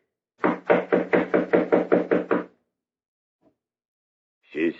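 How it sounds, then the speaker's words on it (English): A series of nine firm, evenly spaced knocks on a hotel suite door, close and fairly loud, followed by silence and then a brief fragment of a voice; an old radio drama setting. "Knock again, please, will you?"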